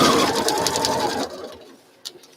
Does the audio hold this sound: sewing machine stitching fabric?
yes